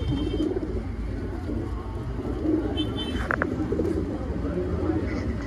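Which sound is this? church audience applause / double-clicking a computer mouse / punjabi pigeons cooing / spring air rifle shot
punjabi pigeons cooing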